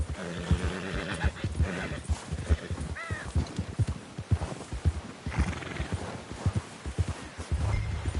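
A horse gallops in the video game Red Dead Redemption 2, rhythmic hoofbeats thudding close and loud, with a brief whinny partway through.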